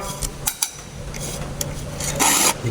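Dragon round file rasping across chainsaw chain teeth, a few quick metallic strokes with short scraping bursts and a brighter, longer stroke near the end, close and clear.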